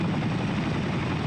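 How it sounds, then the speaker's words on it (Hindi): Apache military helicopter heard as a steady, loud rotor and engine drone, continuous and close, with no talk. "चीन को खाक में मिला देगा हिंद का हाईटेक हेलीकॉप्टर अपाचे"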